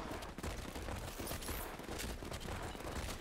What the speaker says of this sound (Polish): Jezus, jakie fajerwerki.